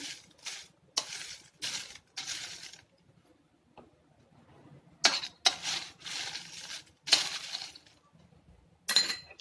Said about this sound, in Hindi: मैं इसको अच्छे से मिक्स कर लेती हूँ